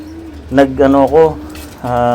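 Racing pigeons, a cock together with late-hatch young birds, coo close by in a few throaty, warbling phrases, loud and clear.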